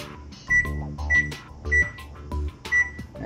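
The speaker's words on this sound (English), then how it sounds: "now let's go over and set our timer." Kitchen timer being set for 25 minutes, giving five regular electronic beeps about 0.6 seconds apart, close and clear, with no talking.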